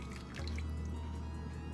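Boiled water, two-thirds of a cup, is poured from the counter into a container for a vegan butter chickpea recipe, giving a short, steady close-up pour with a faint liquid rush and no talking.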